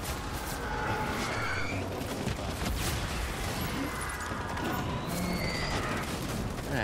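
Gunfire in the video game Death Stranding: dense, continuous rattling bursts and impacts fill the whole stretch at steady loudness, with no talk over them.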